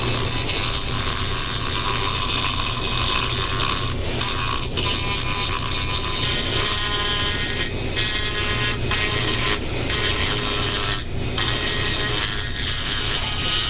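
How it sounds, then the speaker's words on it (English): Freehand milling of wood to cut a recess for a spring system, a harsh continuous high-pitched whine with brief dips in load, loud and close, no voices. "milling out this area here for the spring system, the speed save system"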